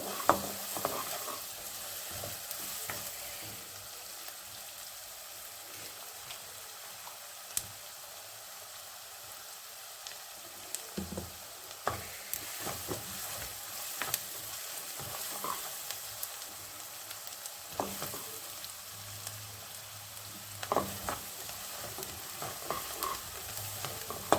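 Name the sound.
frying for pav bhaji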